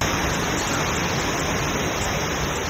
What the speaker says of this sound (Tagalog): Sobrang lakas ng ulan dito mga partner, no?